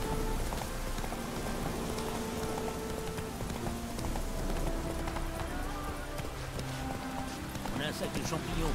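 Hooves clip-clop at a steady gallop as a horse runs through The Witcher 3: Wild Hunt, layered over a continuous rain-like wash and game ambience, with a voice speaking over the hoofbeats.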